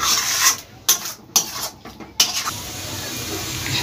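A spoon scrapes and stirs through curry with tomato in a pan as jackfruit kalia cooks, several distinct scraping strokes over a soft sizzle that settles into a quieter hiss.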